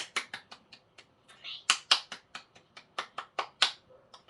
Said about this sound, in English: We gotta clap, guys. We gotta clap.